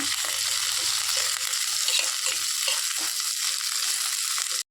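Ingredients for curry leaf chitranna frying in a pan, a steady loud crackling sizzle that runs unbroken throughout with no talk over it.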